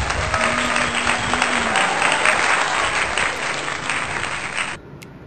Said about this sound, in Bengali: সো এই ভাইটির জন্য জোরে হাততালি